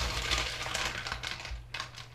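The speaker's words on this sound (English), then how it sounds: "just dropped a bunch of steel." Steel pieces clatter and tumble in a rapid, continuous jumble into a brass-cleaning machine with dirty water, a rumbling machine hum running steadily underneath.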